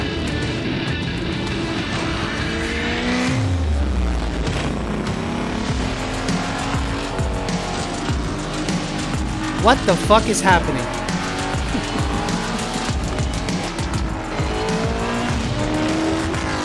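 Ford S650 race cars at a live street reveal: engines rev loudly and tires squeal in long sweeping bursts, with excited talk from people over the noise.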